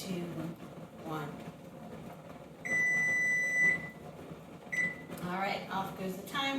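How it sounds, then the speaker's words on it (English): Kitchen timer beeps while canning jars of mock pineapple made from zucchini rest in hot water, a sustained electronic tone followed by a shorter second beep, with someone speaking around it. "off goes the timer"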